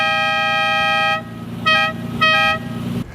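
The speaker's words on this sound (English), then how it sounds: "Another one of the Countach's most ridiculous characteristics is its dinky little horn." The small, dinky horn of a Lamborghini Countach gives a long steady toot, then two short blasts, a thin bright tone heard up close over a low engine idle.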